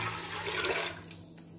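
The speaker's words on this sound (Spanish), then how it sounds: "2 minutos después le echamos lo que es el agua que soltó los frijoles." Black bean cooking liquid pours into a pot, a steady watery splashing that fades toward the end, close and alone.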